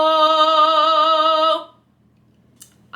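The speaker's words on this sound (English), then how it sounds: "The register between the chest and head voice is the middle, or mixed voice." A singer holds a single sustained note in the middle or mixed voice register, steady and close for about a second and a half before stopping, followed by near silence and a short breath or noise at the end.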